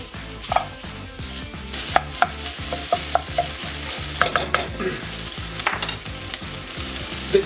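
Food for a PKU lasagne fries and browns in a pan, a steady sizzle broken by repeated stirring scrapes and clacks of a utensil against the pan, close and continuous with no voices.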